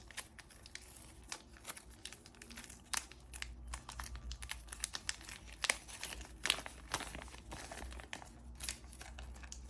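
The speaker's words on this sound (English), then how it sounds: "This bag is so tough to open with just my fingers." A tough plastic bag is pulled and worked open with bare fingers at a workbench while installing a red dot on a pistol: continuous close crinkling and crackling with sharp tearing bursts, busy and irregular.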